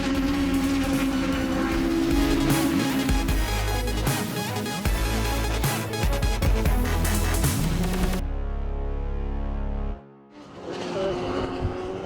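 Legends cars racing at Pembrey circuit in the Championship, a loud dense engine roar with shifting tones for about eight seconds, then a quieter steady drone, a brief dip near ten seconds and the roar returning.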